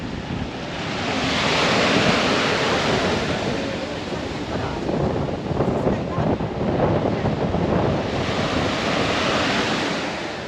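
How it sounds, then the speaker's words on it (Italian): Wind rises over the sea before a storm and buffets the microphone in a loud, broad roar, blending with rushing surf that swells, eases and builds again. "Senti qualche vento si è alzato."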